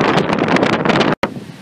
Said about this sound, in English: It's very windy, so there's a lot of waves.